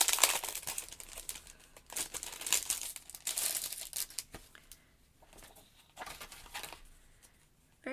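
Sheets of Hanamule velour pastel paper, 260 gsm (120 lb), crinkle and rustle as they are handled, in irregular bursts of dry, papery crackling with quieter pauses between.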